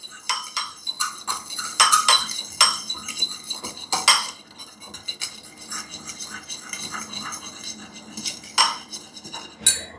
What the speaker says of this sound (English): I'm gonna mix that together.